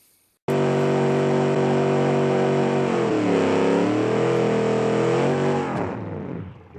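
A race car in the BeamNG driving game revs hard at the launch, a loud, close engine drone that holds steady, dips and climbs in pitch as the clutch drops, then fades out.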